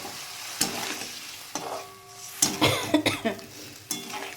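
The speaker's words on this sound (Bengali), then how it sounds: "তার জলটা আমি দিয়ে দিলাম মিক্সিং জার ধোয়া জলটা আমি দিয়ে দিচ্ছি এর মধ্যে" Tomato paste and water from rinsing a mixer jar go into a pan of fried masala for a cabbage kofta curry, producing bursts of sizzling spatter alongside several sharp spoon-against-pan knocks, close and moderately loud.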